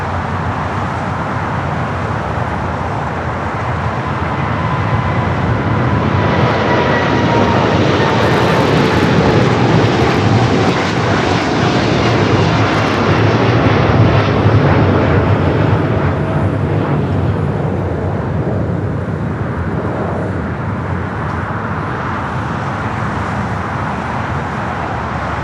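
A jet airliner on runway 25 left at LAX roars loudly and close, its engine noise building to a sustained broadband rush that swells in the middle and eases off toward the end.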